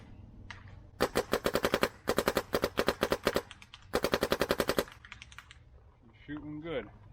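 Rapid bursts of paintball fire from a Dye Matrix DM9 marker, several fast strings of sharp pops in a steady rhythm, loud and close, with short pauses between volleys and a voice briefly heard at the end.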